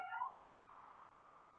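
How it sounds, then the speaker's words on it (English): A single cat gives a short, faint meow at the start, then a quieter drawn-out mewing tone fades under low background hiss; the sound stays soft and distant, with no talking. "hello, Kitten Cat. I see you out there."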